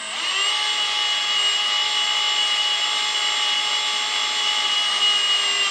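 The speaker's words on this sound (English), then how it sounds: "You might have heard the drill labor up." A power drill priming an engine oil pump whines steadily at high pitch, strained and continuous, with no voices, close to the listener.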